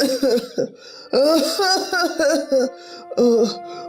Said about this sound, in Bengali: মরার কাশির জ্বালায় ঘুমও আসে না